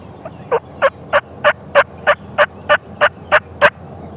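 Eleven rapid, evenly spaced gobbles from a wild turkey on a farm hunt, close and loud, rising in strength after a soft first note, with no talk over them.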